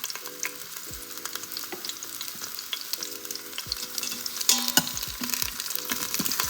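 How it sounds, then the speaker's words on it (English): An onion set face down in about a tablespoon of hot oil to char for a pho-style broth, sizzling and crackling steadily up close, with a few soft clatters, no voices. "You're going to get your onion, and we're just gonna put it face down."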